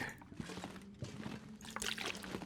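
A short liquid pouring and trickling sound as a survivor drinks water in the wilderness survival game The Long Dark, soft and close, alone with no talk.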